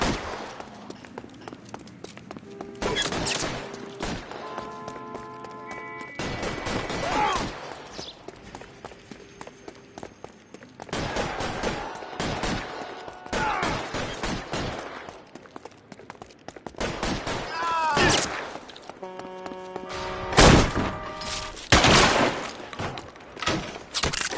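Gunfire erupts in a shootout in the LA Noire video game: sharp, loud shots come in scattered bursts and single cracks across the scene, with voices talking and calling out between and over them.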